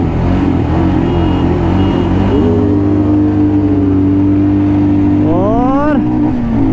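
Several dual-sport motorcycles, a Royal Enfield Himalayan, KTM Adventure 250 and Suzuki V-Strom 250, roar loudly in a drag race, engines droning steadily before climbing in pitch as they accelerate hard near the end.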